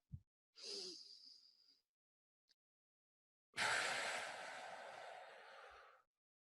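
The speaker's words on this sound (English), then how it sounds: "I'm gonna over exaggerate what happens when I take a deep breath in." A man gives two deliberately exaggerated deep breaths in, the first a short airy gasp and the second a long, loud, rushing inhale lasting over two seconds, both close and alone.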